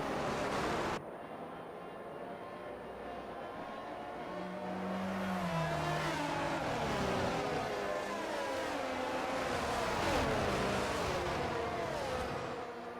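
Race cars drive in at a Tier 1, Round 1 event in Las Vegas, their engines a continuous droning roar with shifting revs that swells in the middle and stays steady without pause.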